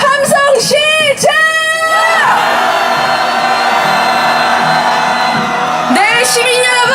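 A crowd of protesters at a street march calling for a presidential impeachment shouts and whoops loudly and close, a sustained roar of many voices with a leader's cry rising over it.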